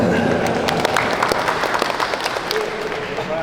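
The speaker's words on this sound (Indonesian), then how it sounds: "Tepuk tangan" Meeting attendees applaud during a traffic-management planning session in West Java, a steady wash of many hands clapping at close-to-moderate distance, with a few sharper individual claps and faint murmuring mixed in.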